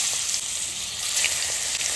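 Fish pieces rubbed with salt and turmeric frying in hot oil in a wok, a dense steady sizzle with a bright crackling hiss and small spattering pops, close and continuous with no voices.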